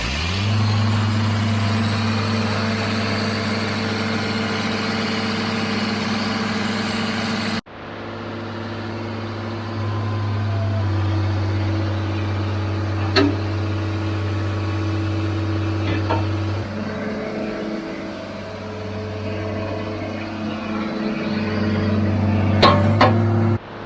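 A loader's diesel engine starts up and settles into a steady, throttled-up run, a loud continuous drone with a cut partway through before the engine carries on, a few faint clicks and knocks over the hum.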